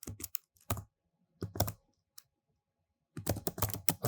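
Computer keyboard keys clatter in quick bursts, with several rapid runs of typing separated by pauses, close and clear in a quiet room.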